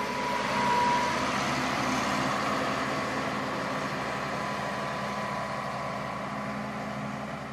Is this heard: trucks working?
yes